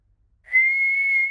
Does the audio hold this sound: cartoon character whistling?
yes